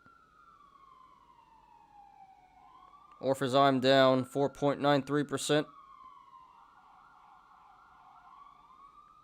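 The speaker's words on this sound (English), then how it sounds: "Sorry about the sirens" A wailing siren sweeps up and down steadily in the background while someone talks loudly over it for a few seconds in the middle.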